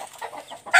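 A farm chicken clucks in a short burst of soft calls that ends in a sharper, louder squawk.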